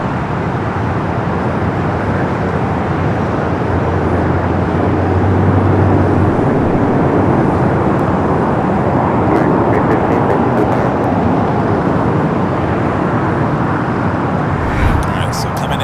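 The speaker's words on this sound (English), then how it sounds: "Got that American 777 heading to London Heathrow, now rolling down" An American Airlines Boeing 777 bound for London Heathrow rolls down runway 25 at LAX, its engines a loud, steady roar that fills the whole stretch without letup. Distant traffic hum sits underneath.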